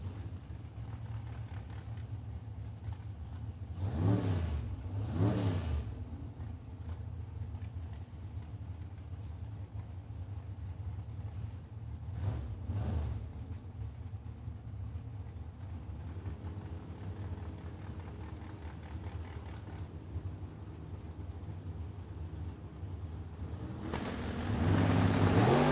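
Drag racing cars, among them a Camaro, thunder down the strip at a Super Pro event, a constant loud engine roar with several sweeping pass-bys and a final swelling acceleration, no voices over them.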